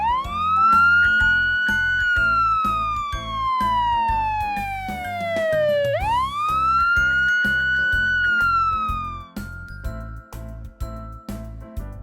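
A police car siren wails loudly, sweeping slowly up and down in long rising and falling tones, over a rhythmic pulsing backing, then cuts off abruptly near the end.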